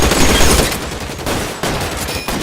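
Dense, loud gunfire from a firefight in L.A. Noire, a sustained volley of overlapping shots with brief breaks, close and with no talking.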